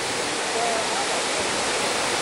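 Rushing water from the Edessa waterfall in Greece, a steady broadband roar filling the whole clip without pause.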